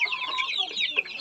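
Cross-bred chicks cheeping close by, a dense overlapping chorus of high, thin peeps that runs through the whole brief moment, with no voice over it.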